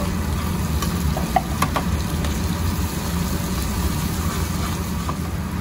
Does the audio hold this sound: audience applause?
no